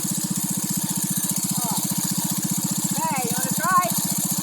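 A doodlebug minibike's small engine idles close by in a fast, even putter that holds steady throughout, with voices talking briefly over it.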